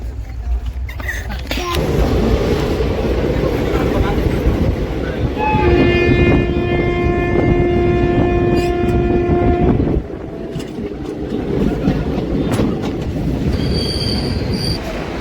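The Gomti Sagar Express, a passenger train on the Lucknow to Chennai route, rolls loudly along the rails with a steady rumble, close by. A sustained horn-like tone sounds for several seconds in the middle, and the rumble drops briefly near the end.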